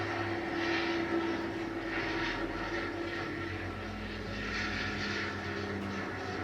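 A Hawker Hurricane's piston engine drones steadily in flight, a loud, continuous propeller roar heard from close by with no break.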